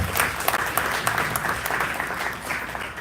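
An audience at a Kenyan diaspora gathering in Alabama claps steadily, a dense wash of many hands applauding continuously at moderate loudness throughout.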